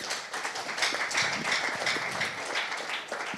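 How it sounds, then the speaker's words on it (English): Applause from a conference audience for a panel: a steady wash of many hands clapping at moderate distance, fairly soft and sustained. "Can we have a round of applause for this great panel?"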